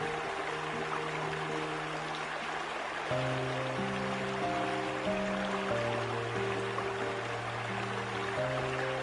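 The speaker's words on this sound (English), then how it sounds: "You hear the sound of the water." Water rushes down with force, a broad continuous hiss like a waterfall or heavy stream, with sustained musical tones layered over it.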